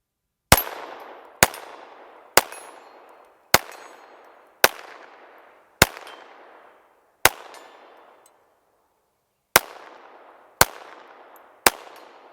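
Standard Manufacturing SG22 .22 pistol fired eleven times at an unhurried, fairly even pace, each sharp loud crack trailing off in a ringing echo, one slightly longer pause near the end, no talking.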